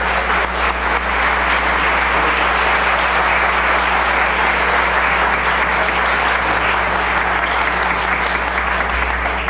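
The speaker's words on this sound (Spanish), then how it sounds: "gracias por sus aplausos" Warm, sustained applause from a Colombian music event audience greeting a veteran radio news announcer, dense clapping at a steady loud level throughout with a low constant hum underneath.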